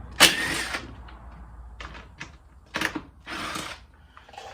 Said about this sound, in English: Put that onto my little rattle gun, and there goes one.